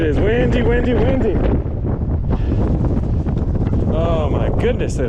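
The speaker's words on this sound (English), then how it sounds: "Oh my goodness, that is windy." Heavy wind roars and thumps against the microphone throughout, loud and unbroken, while a person speaks partly drowned out by the gusts.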